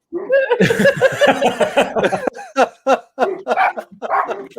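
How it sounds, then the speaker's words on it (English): A dog barks repeatedly outdoors, in loud, close, uneven bursts, a rapid cluster followed by spaced single barks, with a trace of laughter in the background. "all we can hear is a dog barking"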